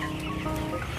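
Broiler chickens cluck in a crowded poultry farm shed in Banjarnegara, Indonesia, making a brief, dense, continuous murmur of many birds with no clear single call standing out.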